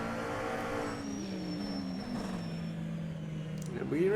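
A McLaren race car in a sim racing game at the Kyalami circuit, a steady engine drone that shifts pitch through a corner, heard beneath commentary.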